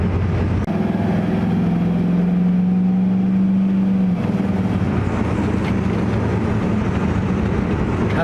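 A 1979 Ford F100 hot rod with a V8 drives along, its engine a loud, steady low rumble with a rising drone partway through, then settling into continuous road and engine noise.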